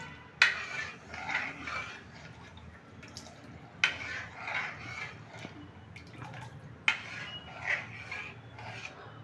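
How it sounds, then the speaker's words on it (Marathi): A spoon scrapes and stirs quietly around a pot of simmering buttermilk kadhi, with three sharper clinks against the rim at regular intervals. "आता हे आपल्याला ढवळत राहायचं आहे"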